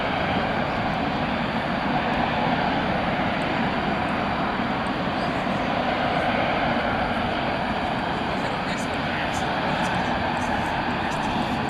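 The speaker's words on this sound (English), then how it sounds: "Ron Cole was about to ask, what do 4 times Trent 900s burn at idle?" Four Rolls-Royce Trent 900 jet engines idle at an airport at night, a continuous broad roar with a steady high whine, unbroken and fairly distant.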